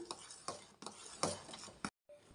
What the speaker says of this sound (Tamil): இனி கொஞ்சம் நல்லா கட்டியாகிற வரை நல்லா கைவிடாமல் கிளறிக்கலாம்